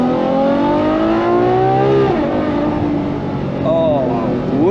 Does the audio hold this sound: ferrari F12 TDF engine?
yes